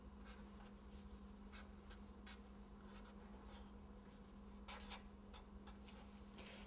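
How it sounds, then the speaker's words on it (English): A pen or pencil scratches steadily across paper as a chemistry problem is written out by hand, with soft, continuous strokes and brief ticks, close and quiet, with no voices. "I'm going to want to actually write out the name of this substance again."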